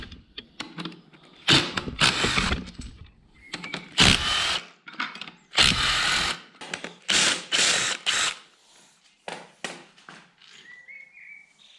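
A ratchet wrench clicks in quick bursts as bolts are undone on a BMW N52 engine's alternator, several separate rounds of loud close ratcheting with short pauses and small metallic clinks between.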